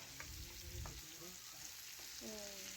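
Potatoes and eggplant being stirred together with fish in a frying pan, with a soft sizzle and a few scraping stirs of a spoon across the pan.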